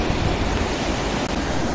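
Water bursts up out of the ground beside a road near Pasighat, where no pipe is present. A steady, loud, broadband rushing roar runs unbroken throughout, like a strong stream close by.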